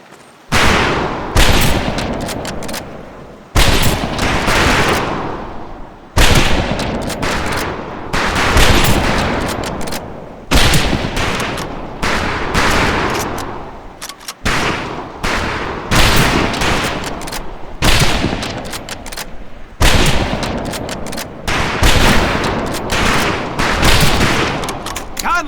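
Rifle fire rings out at shooting-range targets in the video game Medal of Honor Pacific Assault, loud repeated volleys and bursts with short gaps, under occasional voices.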